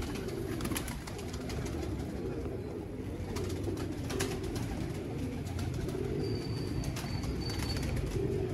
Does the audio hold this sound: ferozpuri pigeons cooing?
yes